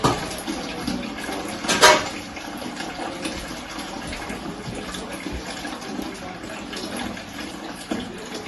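Steady rushing pour of water into a homebrew brewing container, continuous and close, with a brief splashy clatter near the start.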